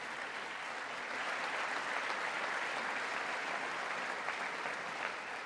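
Steady, dense applause fills a congressional chamber during a presidential address to Congress, a continuous wash of clapping from a large crowd with no pauses.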